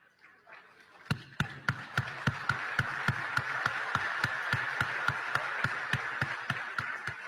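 Ceremony audience breaking into applause, starting faint and building into steady, synchronized rhythmic clapping with crowd murmur underneath.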